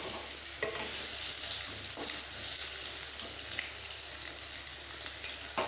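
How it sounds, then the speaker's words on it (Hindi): Potatoes fry in about three spoonfuls of hot oil for an Odia egg and cauliflower curry, giving a steady, loud, close sizzle with faint stirring scrapes throughout and no talking. "देखंतु तेल आमर गरम हो सारी। चलतु आलू पकईदे।"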